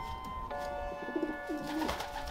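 Low, soft pigeon cooing repeats a few times under a steady background hum.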